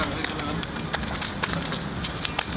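A bird caught on a fishing line with a hook, held at a shore, gives repeated short cooing, flapping bursts amid rustling handling noise while people talk close by.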